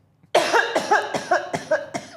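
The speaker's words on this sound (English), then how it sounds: "Just got a cough." A short burst of repeated coughs, about seven in quick succession, close and fairly loud, with no talking.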